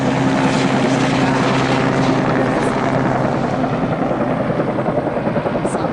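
Two search helicopters fly overhead during a hunt for a missing hiker, a steady loud rotor thrum with a droning engine hum that fades slightly toward the end, with no talking.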